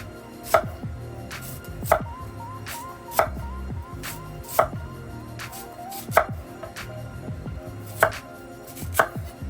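A sharp knife cutting yams on a cutting board, with firm, evenly spaced chops about every second and a half, close and clear, no talking.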